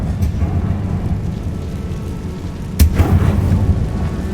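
Explosive spells Bombarda and Confringo cast in a video game, heard as a heavy low rumble that erupts into one loud, sharp blast near the end, followed by a rolling boom.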